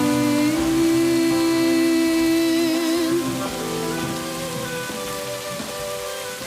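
Steady rain falls throughout, a dense, even patter that stays loud from start to finish, with sustained tonal music layered over it.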